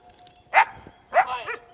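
Dogs bark outdoors beside a raised garden bed near a forest, two sharp barks about half a second apart, fairly close and clear, with faint yips between them and no talking.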